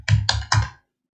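Keys tapped on a computer keyboard: three quick, close, distinct clacks in a steady rhythm, then silence.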